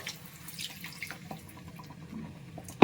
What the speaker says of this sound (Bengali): এবার এতে অ্যাড করে দিচ্ছি মশলা ধোয়া জল